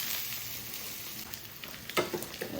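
Curry leaves dropped into hot oil give a soft, even sizzle and crackle, close but fairly quiet, with a brief louder spitting burst near the end and no voices.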